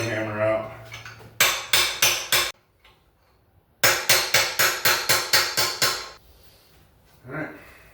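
Sharp metallic body-hammer blows shaping sheet metal for a custom valve cover ring out in two bursts, five quick strikes then about nine more in steady rhythm, loud and close, with quiet pauses between.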